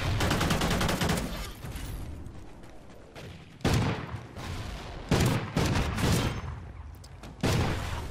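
Shotgun fire in the Call of Duty: Ghosts gun game mode lands as loud, close blasts in several heavy bursts separated by short quieter stretches.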